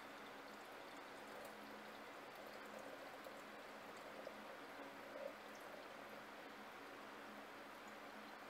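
Water pours into a laboratory flask to top it off while rinsing zinc recovered from alkaline batteries, a faint, steady hiss of flowing liquid that holds even for several seconds with no voices.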